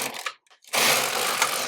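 A domestic knitting machine working a bubble tuck stitch: a brief carriage rasp, a short pause, then a loud sustained mechanical whirring sweep across the needle bed, close by.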